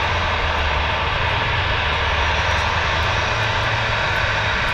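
A Ryanair airliner arriving from Prague at Manchester Airport produces a loud, steady engine roar on approach, a constant broad drone with a low hum beneath and no talking.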